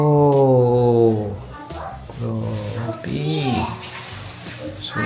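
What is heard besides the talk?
water running from a hotel shower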